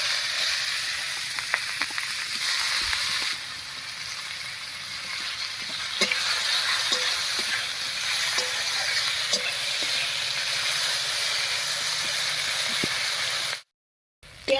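Two large chopped onions frying in hot oil with whole garam masala, cumin and bay leaf, a loud steady sizzle and hiss broken by occasional stirring clicks of a spatula against the pan, close up with no talking.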